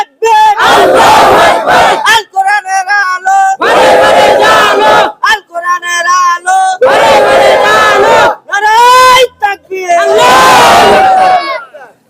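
A crowd shouting the takbir together in loud, rhythmic bursts of massed voices, each chant answered by a short pause, repeated several times.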